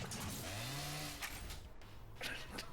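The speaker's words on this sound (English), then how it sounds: "It did just make a chainsaw noise." A chainsaw revving in the video game Yakuza Dead Souls, a short rising-and-falling engine whine lasting about a second, followed by muffled game noise under a steady hum.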